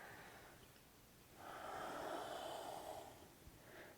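Slow, audible breath during a yoga hip stretch: a soft airy exhale swells for about a second and a half, then fades, with a short sniff near the end. Close and quiet, with no talking.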